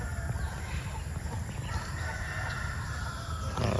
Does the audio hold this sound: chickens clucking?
yes